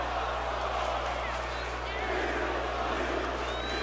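Wrestling arena crowd during a live Monday night event, a dense, loud roar of cheering and shouting that stays constant throughout.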